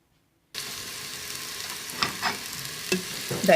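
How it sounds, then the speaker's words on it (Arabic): Chopped onion frying in a pot alongside fava beans, olives and preserved lemon, a steady close sizzle that starts abruptly, broken by a few stirring scrapes. "نديروا كلشي يهبط فوق البوطه يتشحر ونطلق"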